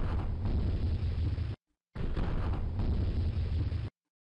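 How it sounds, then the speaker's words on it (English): Grenade explosion sound effect in a computer demo game, two loud sustained roaring blasts of about one and a half seconds each, separated by a brief silence, with no voices. "I'll toss a grenade."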